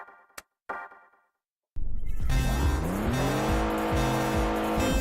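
A car in a racing video game swings into a handbrake turn, its tires squealing and skidding over a loud engine roar that starts abruptly after a few brief clicks and a moment of silence.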